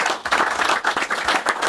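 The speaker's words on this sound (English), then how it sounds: "Give him a round of applause for all of his great work that he does" Studio audience applauding on a football preview TV show, a dense steady burst of clapping that runs through the short clip without voices.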